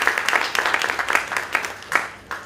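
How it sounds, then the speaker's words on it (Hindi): Audience at a Hindi stage play claps in a short burst, fairly close and loud, with uneven rhythm and a few sharper individual claps toward the end. "एक बार अच्छे से ताली बजा दीजिए सब"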